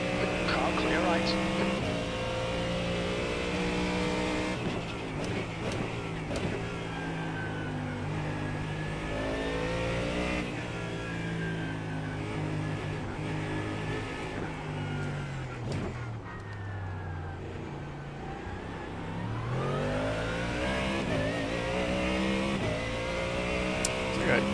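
A GT3 race car in iRacing drones and revs steadily, its engine note rising and falling through gear changes as a faster class car approaches, while a voice talks over it throughout.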